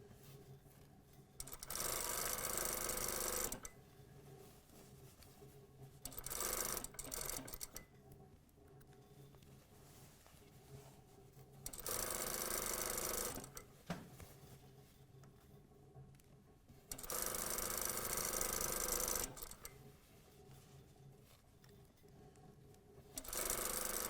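A sewing machine stitches the outside leg seam of a pair of trousers in four long bursts of steady mechanical whirring, loud and close, with quiet pauses between runs.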